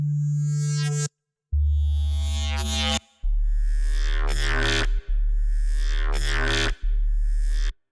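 A Pigments software synthesizer sine wave under phase modulation plays a series of sustained, buzzy notes with a harsh, gritty timbre, several in a row with brief gaps, loud and alone.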